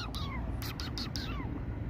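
A cat on a downtown Toronto city street gives a few short meows over steady traffic rumble and street noise.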